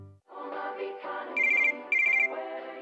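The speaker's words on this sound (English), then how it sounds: "When a ringtone comes between you and your day off" Electronic phone ringtone inside a radio advertisement, two bursts of rapid repeated trilling beeps layered over bright musical jingle backing, loud and close.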